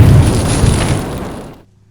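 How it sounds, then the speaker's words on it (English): Explosion from a fire magic attack in an animated fantasy story, a loud deep boom with crackling rumble that decays over about a second and a half into silence. "After he survived that last explosion"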